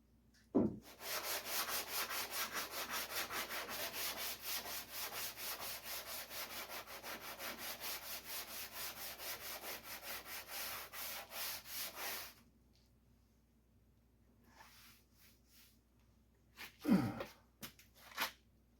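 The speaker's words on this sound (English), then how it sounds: "you don't have to watch me sand." Wood is sanded by hand in a workshop, a steady run of rapid back-and-forth rasping strokes that stops abruptly, followed by quiet and a couple of brief knocks.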